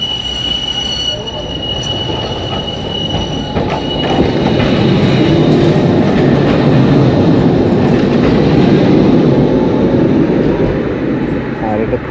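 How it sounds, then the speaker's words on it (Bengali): A tram in Bulgaria arrives and passes beneath a flyover, a loud, close rumble that swells and holds, with high wheel squeal and rail clatter, while people talk faintly nearby. "গাড়ি মতলব ট্রাম,"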